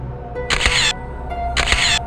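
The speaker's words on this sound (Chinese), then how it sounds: "崩溃的妹子退回房间，发了疯一样对着空气不断按下快门" A camera shutter fired repeatedly by a frantic woman in a room in a horror story, heard as two separate bursts of rapid clicking about a second apart, close and fairly loud over a faint background hum.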